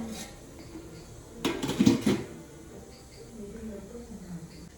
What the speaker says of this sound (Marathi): आता मी परतले आणि परत होतं तसं आता झाकण मारून ठेवते